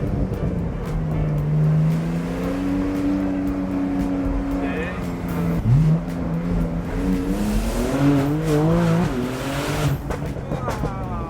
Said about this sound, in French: T'entends le bruit des turbos? Ouais. Ah, c'est les turbos qu'on entend là?